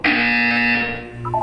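A loud, steady electronic buzzer tone in Portal 2 holds for about a second, then gives way to a brief higher two-tone chirp near the end.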